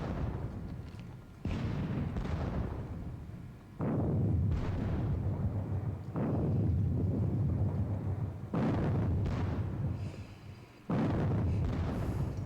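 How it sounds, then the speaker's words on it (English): Artillery dueling in the WDS Battle of Friedland wargame: about six heavy booms arrive at uneven intervals, each rolling out into a long, fading rumble, with no voices. "The artillery duel continues."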